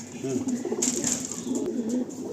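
Andhra pigeons coo in low, throaty bursts close by, with a faint high hiss and brief rustles in the background of a pigeon loft.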